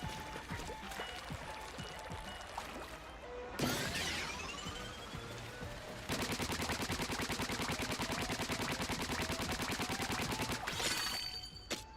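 Splatoon weapon fire set to its maximum rate: dense, rapid rattling bursts fill most of the stretch, with short gaps and splashy impacts between volleys, close and loud.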